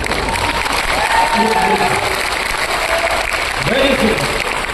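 An audience claps steadily at a Hindi motivational talk, with the applause continuing under a voice that speaks through much of the moment.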